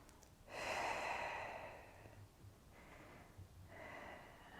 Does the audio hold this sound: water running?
no